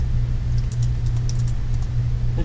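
Steady keyboard typing on a computer during a programming session, a continuous soft patter of keystrokes over a low constant hum, with no talking.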